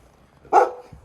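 A white puppy gives one short, loud bark close by, a brief burst after near silence, with a faint low rustle afterward.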